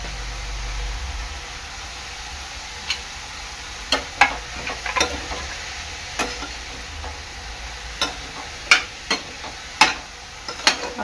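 Vegetables with capsicum cook in a pan over a faint, steady sizzle, broken by a scattering of sharp clicks and scrapes from stirring.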